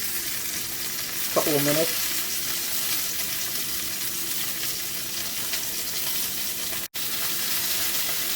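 Pork slices for Japanese ginger pork shogayaki frying in a pan give a steady, close sizzle throughout, with a brief tonal blip early on.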